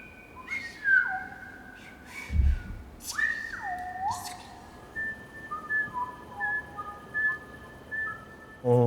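Shepherds' whistled language from the Ossau Valley, with clear piercing whistles that glide up and down in pitch, some held as long tones and others broken into short phrases, sounding alone against a quiet background.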